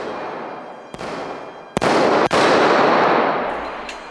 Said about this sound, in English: But he guns him down like the rest.